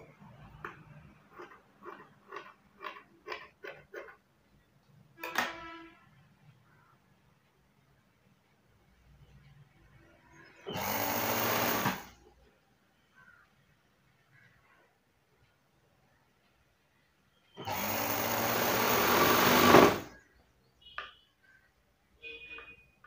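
A sewing machine stitches blouse fabric in two short bursts of rapid whirring, about one and a half and two seconds long, set among quiet gaps and a run of light rhythmic ticking earlier on.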